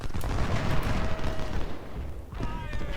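Booming volleys from 6-pounder field guns in the Civil War strategy game Ultimate General, heavy rumbling blasts overlapping with crackling gunfire in a dense, continuous barrage.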